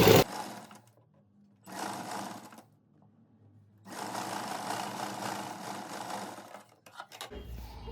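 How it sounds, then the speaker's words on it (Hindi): A sewing machine stitches the hook-eye strip of a blouse in two bursts, a short run near the start and a longer steady one of about three seconds, with quiet pauses between. "अब सिलाई लगाएंगे।"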